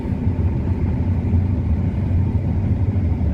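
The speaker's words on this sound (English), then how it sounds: "I did turn that straw chopper on." A steady low mechanical rumble of a combine harvester with its straw chopper running continuously, droning evenly without pause.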